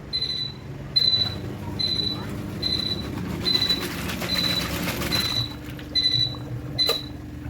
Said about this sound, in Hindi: हमने जो बजर डाले थे वो बजर भी बज रहा है।